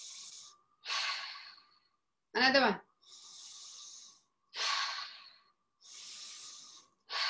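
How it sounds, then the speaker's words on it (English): Slow, deep breathing exercise: long hissing inhales and exhales alternate in a steady rhythm, close and fairly quiet, with a brief spoken phrase between breaths. "This deep breathing might make you a little"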